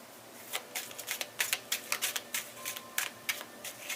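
Crisp, rapid riffling bursts of tarot cards being shuffled, several quick flurries in a row, close and fairly quiet with no talking.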